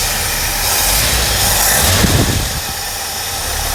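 A 1969 Mercury Monterey V8 idling close by, with a steady, loud engine rumble and broadband roar that holds even throughout, briefly swelling slightly midway, with no voices.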